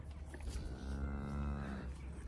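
A cow on a farm gives one long, loud, steady moo lasting about two seconds, close to the listener and with no talk over it.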